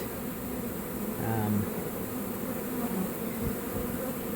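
Honeybees buzz during a hive removal at Lake Hollingsworth, a dense, continuous drone of many insects close by with individual wingbeat tones rising and falling above the steady hum.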